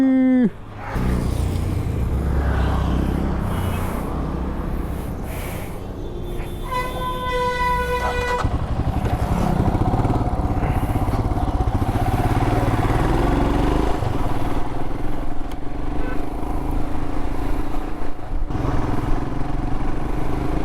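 A Royal Enfield Himalayan 411 motorcycle engine drones steadily while riding, with rushing wind noise and a brief horn-like tone partway through.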